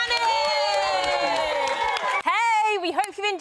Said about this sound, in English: Can we give a round of applause for Big Manny?